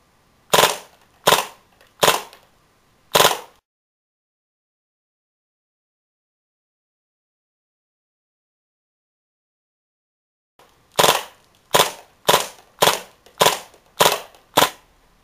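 A Tactical Force TF-11 gun fires sharp, loud, close single pops: four spaced shots, a long silence, then a faster run of about seven shots.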